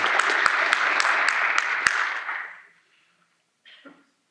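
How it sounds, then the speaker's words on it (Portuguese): A crowd applauds steadily at a roundtable event, with a few sharper claps standing out, then the clapping fades away within a few seconds, followed by a brief faint sound. "vou pedir uma salva de palmas ao senhor Aldo"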